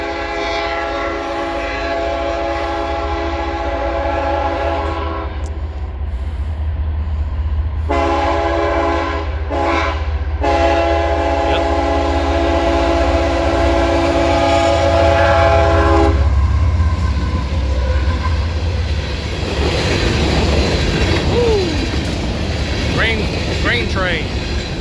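A very long grain train with two mid-train distributed power locomotives rolls through a road crossing in Guthrie, Kentucky, its loud horn sounding in sustained blasts for several seconds before giving way to the steady rumble and clatter of passing cars.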